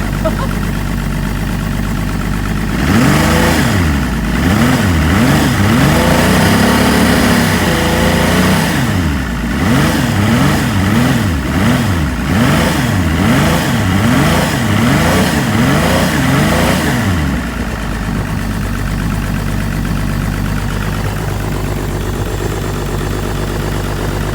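Engine of a 2002 ex-police car cranking over and running, loud and close, with wavering, surging revs through the middle before settling to a lower idle-like rumble; a voice is heard at times.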